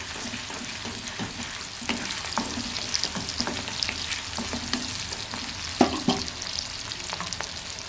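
Gongura leaves sauté lightly in a pan before chicken goes in, an even close sizzle broken by rhythmic spatula scrapes and stirring taps, with a sharper clank near six seconds.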